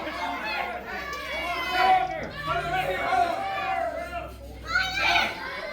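A crowd at a wrestling show cheering behind the wrestlers in the corner: excited, high-pitched voices rise and fall in waves, fairly near, with someone talking over them.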